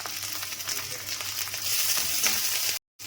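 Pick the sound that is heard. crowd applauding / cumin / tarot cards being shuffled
cumin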